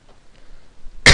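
A single loud, close cough bursts out near the end after a second of near silence indoors.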